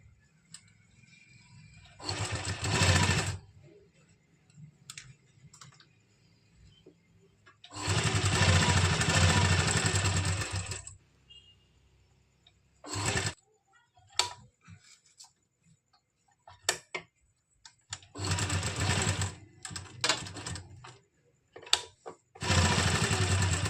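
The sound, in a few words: sewing machine stitching kameez neckline with buckram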